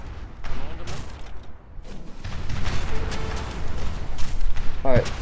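Repeated booming cannon blasts and rumbling explosions sound over a noisy naval battle in Age of Empires 3, with a voice talking briefly near the end.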